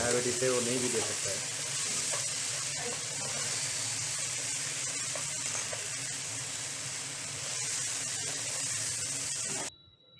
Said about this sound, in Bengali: আদা রসুনের পেস্টটা দিয়ে আবারও কিছুক্ষণ কষে